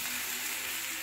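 Chinese dumplings sizzling in a frying pan as they brown, a steady close hiss of hot oil with no other sounds.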